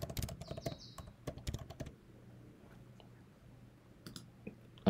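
Keys on a MacBook keyboard are tapped in a quick, close run of light clicks for about two seconds, followed by a quiet pause and a few last scattered keystrokes.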